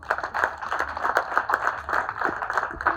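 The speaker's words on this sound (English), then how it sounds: "please give them a round of applause." A small audience at a golden birthday celebration claps for teachers, brisk uneven clapping at moderate distance with a slightly hollow indoor sound.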